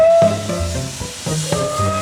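Loud steam hissing with a brief whistle tone at the start, followed by rhythmic low chuffing pulses from a nearby steam train engine on the Isle of Man.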